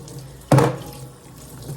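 A kitchen sink tap gushes on suddenly and runs steadily while drinking tumblers are washed at night, close and fairly loud, easing slightly after the initial burst.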